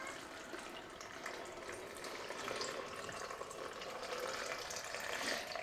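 Tap water runs steadily into a jar over tomatoes being pickled at home, a continuous close splashing hiss that swells slightly toward the end with no talking.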